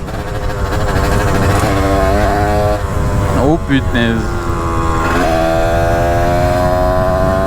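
A loud scooter engine drones and revs in second gear during a wheelie, its pitch climbing and dropping, while a man exclaims briefly in French over the noise.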